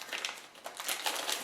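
Brief, close crinkling of plastic bags being opened to remove model helicopter kit parts, in quick rustling bursts.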